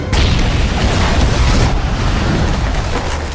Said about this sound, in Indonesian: ledakan dahsyat pun terjadi